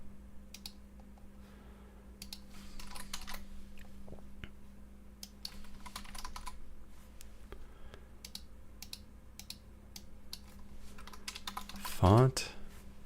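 Bursts of typing on a computer keyboard while building a dungeon crawler game, soft irregular clatter close by, pausing and resuming, with brief muttered talk in places and a sharper burst near the end.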